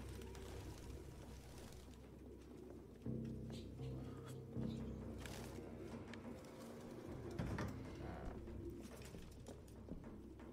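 Pigeons coo softly in a city setting in the video game Detroit: Become Human, low repeated cooing calls under a quiet ambient backdrop with a few brief louder bursts and no speech.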